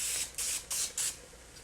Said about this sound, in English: I'm gonna put a little more spray on this.